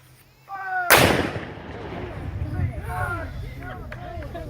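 A single loud cannon blast booms out at Bolivar Heights Battlefield after a short quiet stretch, its roar rolling on and decaying while people chatter and call out in the background.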